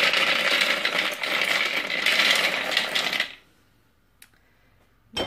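Toasted blanched almonds being coarsely chopped with a knife for an almond-and-walnut baklava, a dense run of rapid, close tapping and crunching that stops after about three seconds, followed by near silence and two faint knocks.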